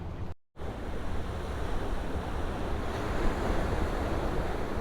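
Rough ocean surf pounds the shore at Piñones beach in Loíza, Puerto Rico, a steady, loud roar of breaking waves mixed with wind buffeting the microphone, briefly cut out near the start.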